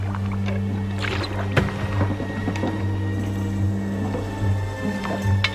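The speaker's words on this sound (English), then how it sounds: "Someone's rowing on the Thames River." A cartoon rowboat on the Thames River creaks and splashes in a steady stroke rhythm over a low humming bed, with soft oar knocks recurring about once a second, close and fairly quiet.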